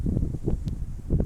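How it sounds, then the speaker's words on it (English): Gusty wind buffeting a microphone outdoors beside a parked Dodge Challenger or Charger with its engine off, low rumbling bursts rising and falling in uneven surges. "aside from it being incredibly windy out right now"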